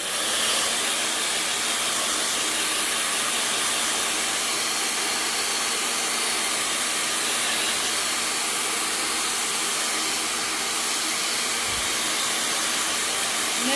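A steady, loud blowing hiss like a hair dryer runs without break while drying a resin jewel piece for an MDF craft box.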